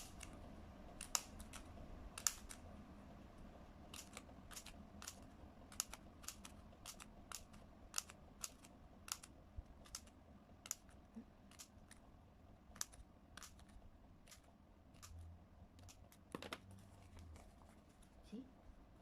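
Scissors cut angpow red-packet paper for a three-tier lantern craft, producing a steady series of crisp, close snips, with quiet speech in places.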